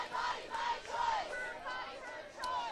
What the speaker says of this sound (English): This is the crowd in front of the Supreme Court right now.